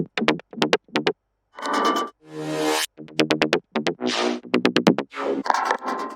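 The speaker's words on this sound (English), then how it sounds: "the next step in the creative process was to put together this mid-bass chop" Mid-bass chop in an electronic track: choppy, stuttering bursts of gritty, buzzy tones, some in rapid-fire repeats and others in longer smeared swells, separated by brief gaps of silence, with no talking.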